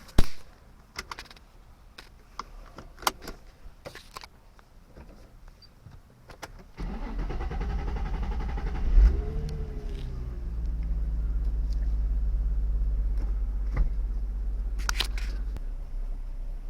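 A Nissan 350Z, bought cheap, sits through a few scattered clicks and door or interior thumps before its engine fires with a short starter whir and settles into a steady low idle that swells briefly as it pulls away, with no voices.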